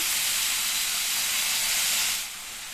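Steady broadband hiss of water sizzling as it is added to a hot pan of brinjal masala, loud and close, easing slightly near the end.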